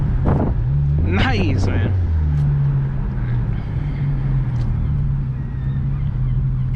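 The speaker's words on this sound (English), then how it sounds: "Little flutter of the muffler, and oh, that little turbo kind of spewed" A car's muffler flutters and its small turbo spools and whooshes, a rumbling engine tone holding steady under the wind noise, with a brief rising whine early on and a short spoken remark.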